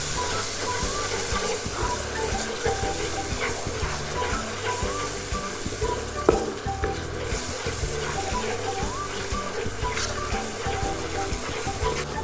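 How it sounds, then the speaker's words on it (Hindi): Spice masala with chilli powder, salt and dry ground spices roasting in a pan for tawa chicken, a continuous frying sizzle with stirring scrapes throughout and one sharp clink partway. "अब डाल के हम अच्छी तरह से भूनेंगे।"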